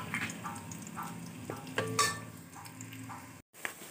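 Onions fry in a pan with a soft, steady sizzle, close by, accompanied by a few light clinks of a utensil against the pan.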